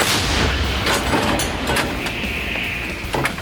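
Howitzer blasts boom and crack over a constant roar of outdoor noise, with several sharp bursts spaced across the stretch.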